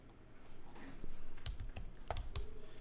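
Keys clatter on a computer keyboard as a file name is typed, a few quick bursts of clicks over a low background hum, fairly close and moderately quiet with no voice.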